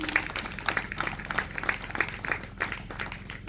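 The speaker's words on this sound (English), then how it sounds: "We can clap hands for them." An audience at a palace ceremony applauds, scattered hand clapping with uneven rhythm at moderate loudness, some voices murmuring underneath.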